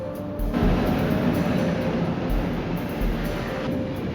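A train rumbling steadily past, with a broad continuous roar, faint rhythmic clatter and a thin tonal whine, loud and close throughout with no voices.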